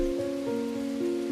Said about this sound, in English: rain pouring all day long.